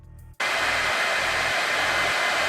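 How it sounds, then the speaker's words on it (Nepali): A compact Xiaomi hair dryer switches on abruptly after a brief quiet moment, then blows with a loud, steady, close-up whoosh that holds without a break. "दुवै कम्प्याक्ट हेयर ड्रायरहरू धेरै शान्त छन्"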